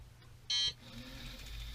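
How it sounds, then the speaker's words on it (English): A ProCom SEQ 4.5 volt programmable brick gives one short, sharp electronic beep, faint and brief against quiet background hum, with no talking. "so it's going to beep 5 times"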